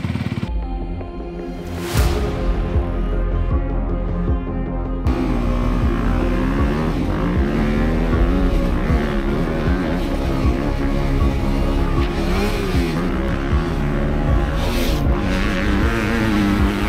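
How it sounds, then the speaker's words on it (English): A 2025 Honda CRF250R dirt bike ridden on the sand dunes at Gopher Dunes, its engine loud and close, revving and holding a continuous high drone for the whole seventeen seconds after a quieter opening. "throw a leg over this bike, and take it for a rip"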